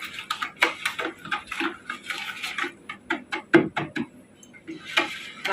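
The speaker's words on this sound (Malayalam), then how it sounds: "എന്നിട്ട് എന്തെങ്കിലും ഒരു കോല് വെച്ചിട്ട് നമ്മളത് മിക്സ് ചെയ്യാം കേട്ടോ." A stick stirs homemade dishwashing liquid in a plastic bucket, giving close, irregular knocking and scraping taps against the bucket wall that come in quick uneven bursts, with no talking.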